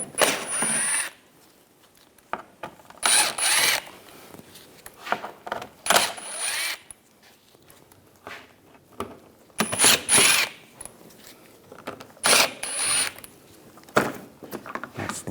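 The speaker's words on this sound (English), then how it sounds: "Using a T25 socket, these screws under here, we want to take all of those out." A T25 socket ratchet backs out screws beneath the front lower grille of a 2010-2014 Volkswagen GTI, with about half a dozen close, rapid clicking bursts separated by short quiet gaps.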